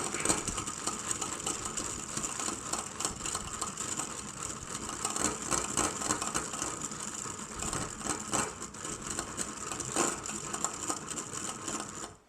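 Electric hand mixer whipping egg whites to stiff peaks, a steady close whir with a rattling, slightly grinding texture running unbroken and fairly loud throughout, no voices.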